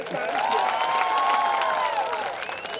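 Applause and cheering from a live comedy show audience, sustained for about three seconds under a bright, whistling tonal layer, with a crowd murmur throughout.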